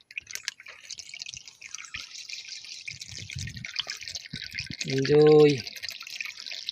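Water poured into a small pan or basin outdoors in a rural setting, a short gurgling fill near the end, with background chatter and hiss throughout.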